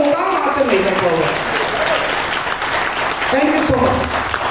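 An audience claps together at a Hindi motivational talk, a steady, full burst of applause with a voice speaking over it.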